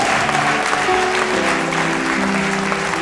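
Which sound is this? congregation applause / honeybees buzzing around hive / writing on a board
congregation applause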